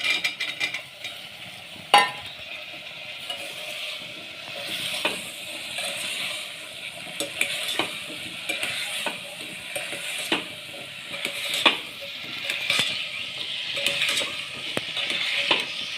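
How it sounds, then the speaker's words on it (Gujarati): Potatoes are stirred into spiced masala in a pot with a gentle sizzle, while a spoon scrapes and knocks against the metal at irregular moments. "હવે એની અંદર આપણે બટેટા ઉમેરી દઈએ"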